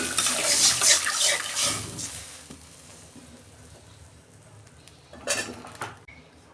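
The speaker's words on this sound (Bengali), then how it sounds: "জল দিচ্ছি।" Water poured into a cooking pot for a sour fish curry of morola fish with mango and bori, heard as clattering and splashing up front, then a quiet stretch and a brief second splash.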